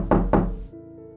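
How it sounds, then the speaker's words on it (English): Two sharp knocks on a door, close and hollow, spaced evenly a moment apart, followed by a low lingering hum. "only to wake up to the knocking again"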